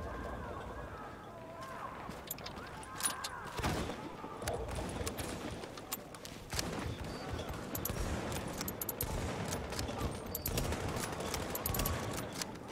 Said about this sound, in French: Je lui ai mis deux balles là.